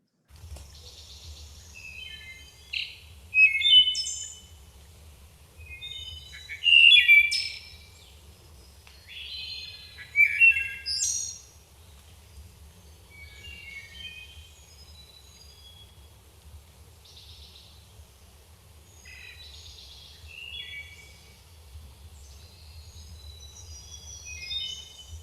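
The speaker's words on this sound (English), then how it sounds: "the wood thrush is a bird that might not be recognized by appearance. It might be recognized by sound" Wood thrush song in a spring forest, several clear fluting, chirping phrases from a songbird at moderate distance, loudest in the first half, over a steady low rumble of background noise.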